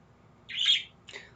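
Pet birds chirp indoors, one bright squawking call followed by a shorter second chirp, heard close over a low background hum.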